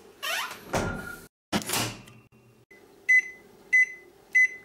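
Door clunks and rustling, then a microwave oven warming food hums steadily and gives three short electronic beeps in an even rhythm.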